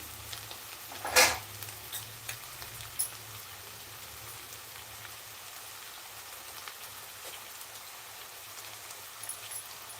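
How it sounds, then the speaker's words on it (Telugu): Rice and toor dal fry in a pan for khichdi with a faint, steady sizzle and crackle. One sharp clatter sounds early, followed by a few light taps, and no one speaks. "చూడండి అన్నీ కూడా చక్కగా వేగుతున్నాయి"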